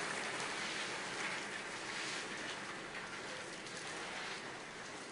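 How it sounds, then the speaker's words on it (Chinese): A heavy downpour during Typhoon Haikui roars as a dense, unbroken wash of rain, steady and enveloping at moderate level with no voices. "但是面对倾盆般的大雨"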